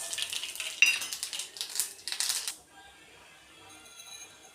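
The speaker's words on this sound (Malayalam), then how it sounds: "എണ്ണ ഒഴിച്ചു കൊടുത്തിട്ടുണ്ട് ഇനി നമുക്ക് കടുക് ഇട്ട് കൊടുക്കാം" Mustard seeds sputtering in hot oil in a pan while making sambar, a busy crackle of close popping bursts for a couple of seconds before fading to near quiet.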